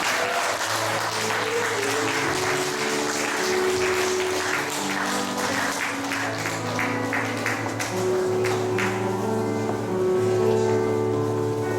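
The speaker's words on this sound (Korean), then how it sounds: "우리 좀 박수로 크게 쳐주셨으면 좋겠습니다." A congregation at a church discipleship college graduation ceremony gives sustained, dense applause that fills the hall for about twelve seconds, with steady music playing underneath.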